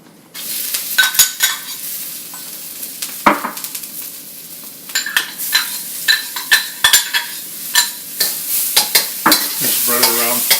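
Garlic and ginger sizzle steadily in hot oil in a wok while a utensil stirs and scrapes against the metal with repeated clanks and scrapes.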